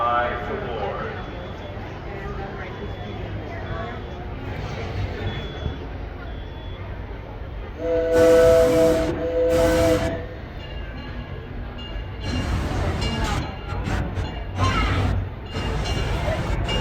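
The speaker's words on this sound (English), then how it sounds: "The Disneyland Limited now arriving from a trip around Walt Disney's Magic Kingdom." A Disneyland Railroad steam train pulls into its station, sounding whistle blasts midway over a steady rumble, with voices and crowd noise in the background.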